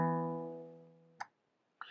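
A guitar chord picked on the fifth and fourth strings rings out and slowly decays, followed by two short muted string scrapes, played alone.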